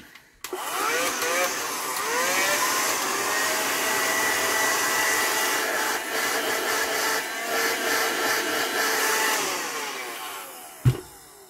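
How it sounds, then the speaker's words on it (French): A Black & Decker handheld workshop vacuum fitted with a new battery switches on with a click and whines loud and steady for about ten seconds, then winds down and stops with a knock. "je suis plutôt content d'avoir retrouvé un petit aspirateur d'atelier, c'est super"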